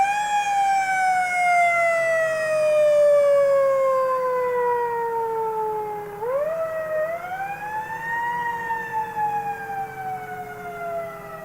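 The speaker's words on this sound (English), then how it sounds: "This looks like the newer fire engine from Middleton." A newer fire engine from Middleton sounds its siren in a town anniversary parade, a loud wailing tone that slides steadily down, then sweeps back up and settles, with no voices over it.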